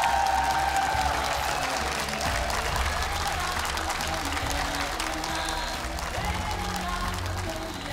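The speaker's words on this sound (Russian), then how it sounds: "Аплодисменты." Audience applause for a strongman from Kyrgyzstan attempting a world-record pull, a steady, moderately loud wash of clapping from a crowd with some murmur and voices mixed in.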